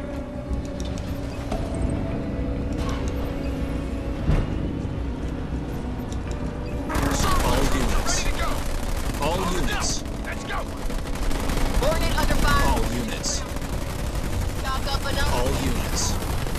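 Rapid, continuous bursts of gunfire from ground troops in the real-time strategy game Halo Wars 2, growing denser and louder midway, with engine rumble and game voices underneath.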